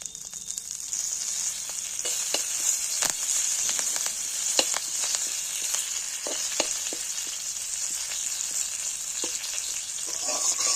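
Curry leaves and rice frying in oil in a pan, a steady close sizzle with scattered crackles and pops running throughout, no voices.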